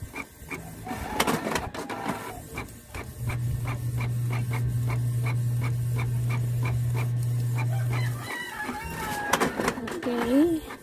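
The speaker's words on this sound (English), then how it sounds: "so that's it. It's printing." A Canon G4010 inkjet printer runs through a print job, its steady motor hum joined by rhythmic clicking of the print head carriage, with paper-feed rattles at start and end and voices talking nearby.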